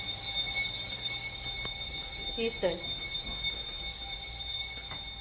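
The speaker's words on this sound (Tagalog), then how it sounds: "Yung fire alarm nila, fire alarm ng building, tinitest pala nila ngayon." A building fire alarm under test rings as a steady, piercing electronic tone held without a break, while a person briefly exclaims partway through.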